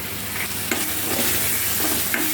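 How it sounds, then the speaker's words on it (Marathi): Onion-garlic masala with red chili powder frying in oil, a close steady sizzle with a few utensil scrapes and stirs, no talking. "चांगला मसाला परतून घ्यायचा, तेल सुटेपर्यंत"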